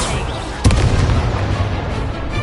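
Confringo fire spell bursting in Hogwarts Legacy, a single sharp explosive crack with a bright pop followed by a sustained rumbling crackle over steady background game noise.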